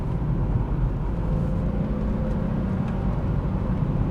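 VW Corrado VR6 engine droning steadily as the throttle is pressed harder, a loud continuous low rumble without a clear rise in pitch, heard close with no talking.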